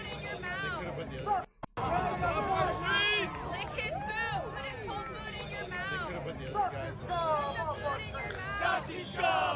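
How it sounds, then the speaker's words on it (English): A crowd of hundreds of counter protesters cheers and shouts at a street protest, a dense, loud wall of overlapping yells and whoops that runs throughout, briefly cut off near the start. "Hundreds of far left counter protesters cheer and shout at them."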